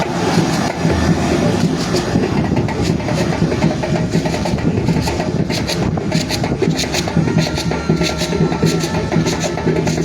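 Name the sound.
airplane departing Roberts International Airport, Liberia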